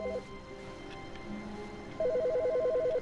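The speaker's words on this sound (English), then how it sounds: "You got a phone call." A telephone rings in The Stanley Parable video game: a short warbling electronic trill, a pause, then a longer run of the same rapid two-tone ring, loud and clear.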